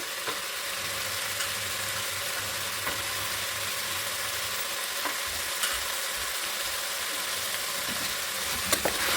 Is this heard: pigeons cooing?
no